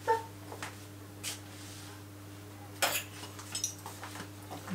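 A tablespoon fetched from a kitchen drawer, with a few scattered metallic cutlery clinks and rattles over a quiet, humming room.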